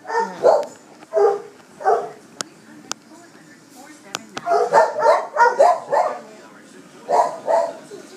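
Dogs bark repeatedly in bursts inside an animal shelter, several loud nearby barks and yips spread across the clip, with a few sharp knocks between them.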